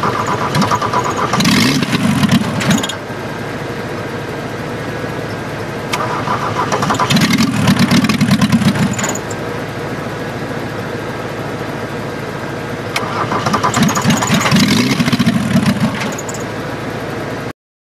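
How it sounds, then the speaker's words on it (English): An old Rabbit car engine being brought back to life, with loud starter cranking in three separate bursts over a steady running engine drone that continues close by throughout. "Hopefully it'll start to draw fuel on its own and keep running."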